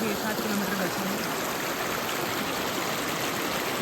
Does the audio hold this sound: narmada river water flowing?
yes